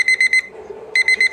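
A phone alarm clock ringtone plays loud and close: bursts of rapid high electronic beeps, a short pause, then the beeping pattern repeats.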